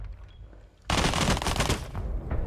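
SMG gunfire in Rainbow Six Siege, a loud burst of rapid automatic shots that erupts suddenly after a quiet moment and keeps rattling to the end.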